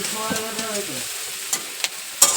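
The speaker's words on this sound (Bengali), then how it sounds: "আর এখানে এই যে আমি মাছের ঝালটা গ্যাসে করে নিচ্ছি" Fish curry (jhal) cooking in a pan on a gas stove, with soft sizzling and frying, a brief ringing clink early on and a few sharp stirring scrapes later, fairly quiet and close.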